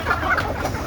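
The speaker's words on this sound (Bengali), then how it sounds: "এই দেখেন কীভাবে বের হচ্ছে মুরগিগুলা।" Native domestic chickens cluck close by as they come out, a short burst of soft, overlapping clucks.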